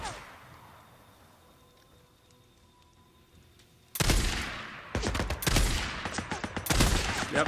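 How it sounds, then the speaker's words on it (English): A big gun in Days Gone opens fire after a quiet stretch, sudden loud bursts of rapid, cracking shots in several volleys, close and forceful, with a faint voice under the din. "Yep, there's that big gun."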